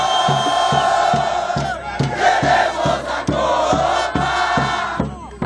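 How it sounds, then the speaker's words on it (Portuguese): Grêmio football supporters gathered to welcome the team, a loud crowd chanting and cheering with a steady rhythmic drumbeat pounding underneath. "Festa e torcida organizada para receber os jogadores do Grêmio aqui na capital."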